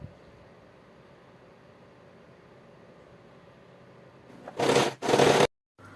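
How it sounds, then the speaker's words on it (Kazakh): A sewing machine stitches a straight seam along the inside of a tulle skirt in two short, loud bursts of whirring near the end, following a long stretch of faint room hiss. "юбканы ішкі бетіне аударып, лапканың бойымен түзу етіп тігіп шығамыз"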